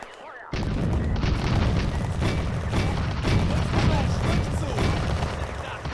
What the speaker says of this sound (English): And the Panzer IV is taking auto-cannon fire.